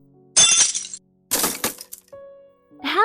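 A breaking crash effect as a child runs into a table and chairs: two loud bursts of smashing and clattering, glass-like, followed by a quiet gap and then a brief tonal sound at the end.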